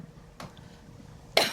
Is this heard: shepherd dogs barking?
no